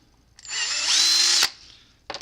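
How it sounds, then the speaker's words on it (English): A power drill bores holes for an RC car wheelie bar: a close, loud whine rises in pitch as the bit spins up, holds for about half a second, then cuts off sharply. "I'm going to drill them out."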